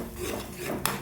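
A utensil stirs roasted spice powder into small-onion thokku in a pan, giving soft scraping and shuffling with a single sharp metallic clink near the end, close by and steady, without speech.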